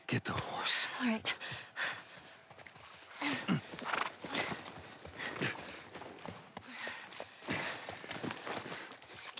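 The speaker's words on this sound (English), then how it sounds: "Just get the horse." Horse hooves clip-clop in the game The Last of Us Part I, irregular thuds and scuffs mixed with breathy movement, fairly close and moderately loud.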